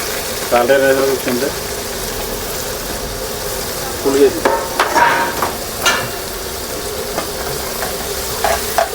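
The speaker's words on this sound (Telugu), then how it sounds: "ఉల్లిపాయలు అన్నీ మిక్స్ చేసి కొట్టేస్తున్నాం" Dried prawns and onions frying and being stirred in a pan, with a steady sizzle broken by scraping stirring bursts, close and moderately loud, with some talk in the background.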